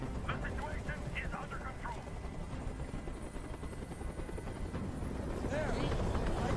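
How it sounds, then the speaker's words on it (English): A helicopter hovers in the video game Detroit: Become Human, its rotor a constant rumbling drone with a few voices over it. "Tell that helicopter to get out of here!"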